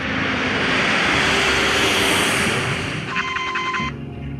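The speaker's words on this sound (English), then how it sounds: "the MAX 8 lifts off the runway at Jakarta" A Boeing 737 MAX 8 jet roars loudly and steadily while taking off from a runway at Jakarta, its broad engine rush filling the scene before easing slightly near the end as a brief tonal beep cuts in.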